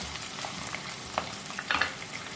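Onion frying with cardamom and cumin for Sindhi mutton keema, a soft, steady sizzle with a few light stirring scrapes and clinks, with no talking.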